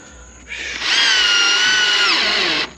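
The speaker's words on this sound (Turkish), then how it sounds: "Mecburen buraya bir tane vida takmam lazım" A power drill drives a screw into a wooden chicken and bird feeder, giving a single close, loud, rising whine that holds steady for under two seconds and then stops.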